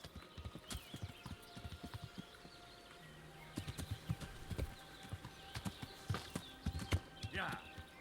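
Horse hooves clip-clop at a trot in a video game, in quick uneven bursts under a player's speech, with a brief whinny near the end.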